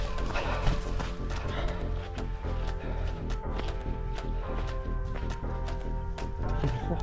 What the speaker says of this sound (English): Beautiful horses.